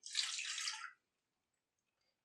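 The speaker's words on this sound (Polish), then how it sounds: "Zalewamy 1 trzecią szklanki wody" A short burst of water pouring over frozen spinach in a pot for about a second, close and steady, then silence.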